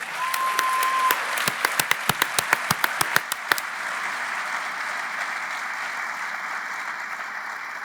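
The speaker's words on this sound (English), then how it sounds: "I suggest to you that deserves another round of applause." Audience applause at an annual scholarship event: sparse individual claps about ten crisp hits over a few seconds, then a steadier wash of crowd clapping continuing at moderate level to the end.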